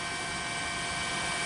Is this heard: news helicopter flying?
yes